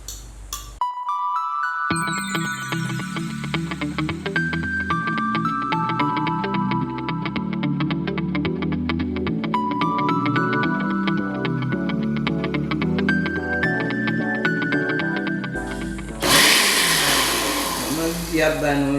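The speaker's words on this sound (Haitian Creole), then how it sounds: "Vous blendez là." A blender runs steadily as it purées pikliz, the spicy Haitian pickled cabbage relish, loud and close for most of the clip. Music plays underneath, and the motor roars up sharply near the end.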